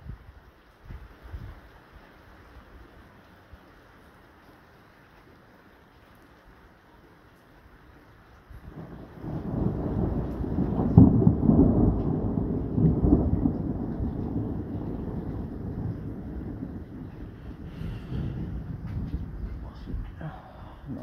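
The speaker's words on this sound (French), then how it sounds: "Un orage de fou furieux qui était pas du tout prévu." A strong, unforecast thunderstorm: quiet rain and wind at first, then a heavy rumble of thunder swells and rolls on for several seconds, fading into continuing rain and wind.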